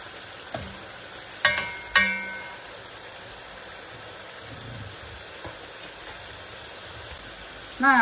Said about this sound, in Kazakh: қызарып алғанша қуырамыз.